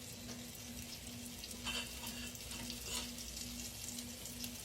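Chicken gizzards frying in a pan turned down low, giving a steady soft sizzle and hiss with faint stirring, close and fairly quiet.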